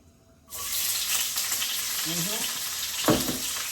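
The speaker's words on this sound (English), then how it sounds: "So I just want to brown this a little bit, the onion." Onion hits hot oil with a sudden loud sizzle that carries on steadily, with a brief voice murmur and a stirring scrape near the end, heard up close.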